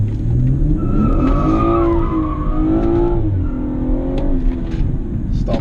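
A 2017 BMW 440i M Performance drifts, its tyres squealing loudly in long wavering howls over a strained, revving engine, heard up close.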